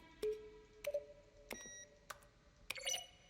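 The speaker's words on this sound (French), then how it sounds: "Chaque son est un mélange de frappe au clavier et de tonalité de synthétiseur" Short electronic beeps and synth tones mixed with key clicks sound one at a time at irregular intervals, clean and close, ending in a brighter chiming flourish, from the game The Stanley Parable: Ultra Deluxe.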